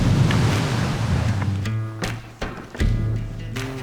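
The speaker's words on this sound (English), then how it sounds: "Windy start to the day here." Gusty wind on a canyon morning buffets the microphone in loud, uneven rushes that drop out briefly and return, a rough outdoor roar with no voices.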